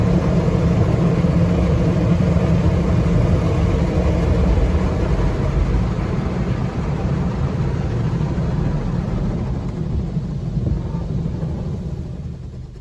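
Petro-Canada automatic car wash running over a car, heard from inside as a steady loud low rumble and whooshing of brushes and water, continuous and close, easing slightly toward the end.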